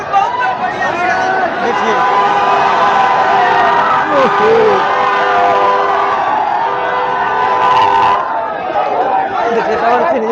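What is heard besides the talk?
large crowd at Pawan Singh's nomination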